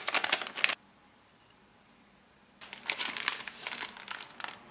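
Plastic packaging from an MRE accessories bag crinkles sharply up close, with a burst of handling, a quiet pause, then a longer run of crackling rustles.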